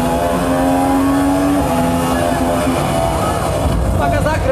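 A car speeds up along a straight on a track, its engine droning steadily and rising in pitch, close and loud throughout, with no other sounds standing out.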